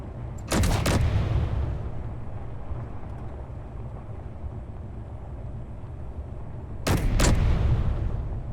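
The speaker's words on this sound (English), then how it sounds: "What are you shooting at?" Two loud gunfire bursts ring out close by, one near the start and one near the end, with a steady low rumble between them and no talking.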